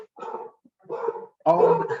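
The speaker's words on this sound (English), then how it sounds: "Sorry about that, that's my dog." A pet dog indoors gives three short barks and yelps in quick succession, close and fairly loud, with brief silences between them.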